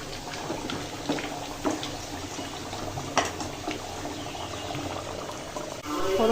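Dried chillies and chopped onion sizzle in hot mustard oil for a tempering to pour over meat, giving a close, steady crackle with scattered sharp pops and a soft clink near the end.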